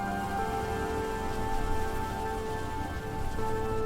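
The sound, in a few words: heavy rain falling in a forest, story sound effect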